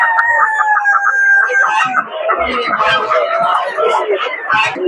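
Roosters crow at a busy outdoor poultry market, one clear cock-a-doodle-doo up close, then more crowing and clucking from other birds over a babble of vendors and customers talking.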